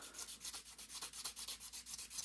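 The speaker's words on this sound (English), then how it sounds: "we use our sanding block again. It will clean it right up." Quick rhythmic rubbing strokes of a blending stump cleaned on a sanding block, a soft scratchy back-and-forth, repeated steadily and close.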